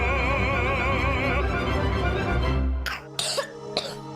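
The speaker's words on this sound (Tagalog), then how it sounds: "Ubo ng anak?" A child gives a few sharp, close coughs in a cough syrup commercial, following a stretch of tonal music that cuts out just before the coughs.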